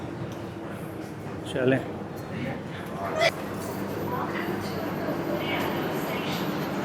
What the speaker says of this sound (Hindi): ये आ गई जी मेट्रो ग्वांगझो की।